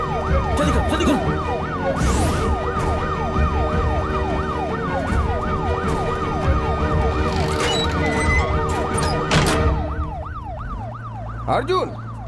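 An ambulance siren wails loudly in an action movie scene, a fast repeating up-and-down warble close by over traffic rumble, fading out near the end.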